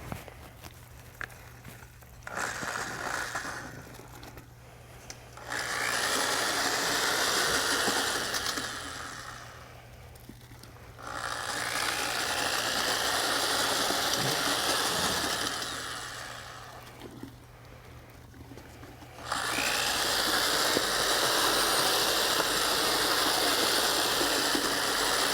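An electric drill paddle-mixes pool deck resurfacing material in a bucket, its motor whirring loudly in three long bursts separated by short pauses of quieter rattling.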